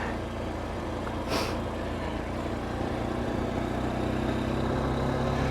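A Honda CB125F motorcycle engine with a slipping clutch runs at a steady, loud, close drone with a low throbbing hum, one brief rise in the middle, and no clear climb in pitch.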